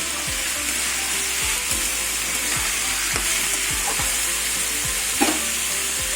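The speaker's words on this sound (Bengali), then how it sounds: "ফুলকপি আলু ভেজে নেবো পরিমাণ মতো নুন দিয়ে দেবো" Cauliflower and potatoes fry in hot oil with salt for a ghugni dish, making a loud, even sizzle with soft stirring sounds and one brief clink near the end.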